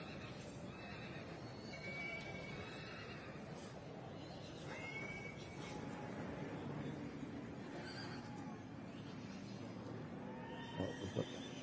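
Heavy horses whinny and neigh repeatedly in the heavy horse section of an agricultural show, set against a busy outdoor crowd murmur, with a clatter near the end.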